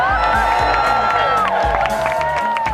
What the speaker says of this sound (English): Let me hear a massive cheer for getting Climate Camp 2009 started!